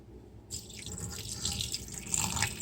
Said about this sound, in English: and drain the water out.